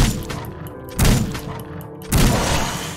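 Upgraded shotgun firing in the Wasteland Survival zombie video game, two loud close blasts about a second apart, each with a booming, rattling decay.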